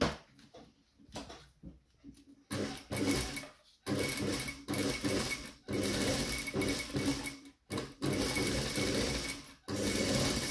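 A domestic sewing machine stitching a jogging trouser waistband back and forth, running in loud, close bursts of rapid needle chatter broken by short pauses as the stitching reverses direction, with no talk.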